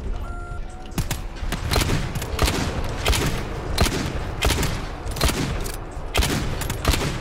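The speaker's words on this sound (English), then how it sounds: "I shot his freaking head off." Rapid bursts of gunfire from the cooperative shooter game GTFO, loud, dense volleys repeating across the whole stretch with sharp transients roughly every second, no talk over it.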